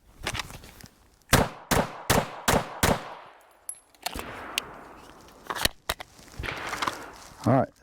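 Five pistol shots from a ZEV OZ9 or Springfield XDM OSP at an outdoor range, fired in a quick, evenly spaced string of loud sharp cracks, followed by scattered shuffling and clatter.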